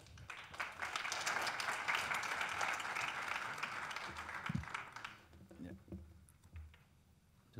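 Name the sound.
audience applause for speaker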